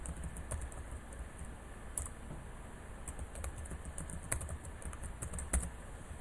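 Password being typed on a computer keyboard, a quiet irregular patter of key taps with a few sharper clicks, close and faint in a still room.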